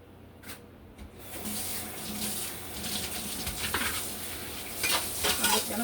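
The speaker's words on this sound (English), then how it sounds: "I'm just gonna rinse it out of the sink" Tap water runs steadily into a kitchen sink as salted cucumber is rinsed, a continuous splashing hiss with shifting spatters, close and fairly loud after a quieter start.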